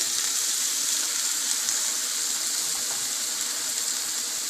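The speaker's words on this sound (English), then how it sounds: "Add some water into it." Water poured steadily into a cooking pot of pumpkin curry with tomatoes, a continuous close-up gushing splash that holds at an even level throughout, with no talking.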